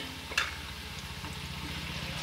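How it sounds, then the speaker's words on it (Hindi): Ginger and turmeric paste frying in a pan, a faint, steady low sizzle with a single clink of a utensil near the start and soft stirring throughout. "अच्छी तरह इसे भूनेंगे।"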